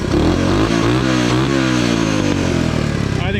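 Honda Trail 90 motorcycle fitted with a larger sprocket, its engine droning loudly and steadily while climbing a hill in fourth gear, the pitch wavering slightly under load and dropping off at the end.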